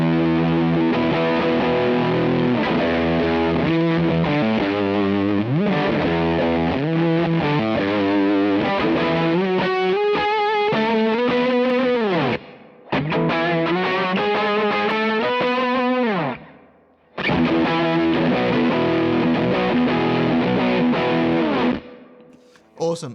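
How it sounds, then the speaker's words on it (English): Heavily distorted fuzz tone from an electric guitar with gain 1 and gain 2 both engaged, playing sustained chords and bending lines loud and continuous, with two brief gaps near the end. "if gain 1 and gain 2 are both engaged and they're on, it's a fuzz sound"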